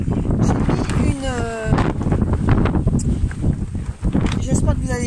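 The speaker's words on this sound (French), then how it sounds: "quand il y a vraiment énormément de vent comme aujourd'hui" Strong gusty wind buffets a garden greenhouse and the microphone, a rough roaring rush that swells and fades beneath someone speaking throughout.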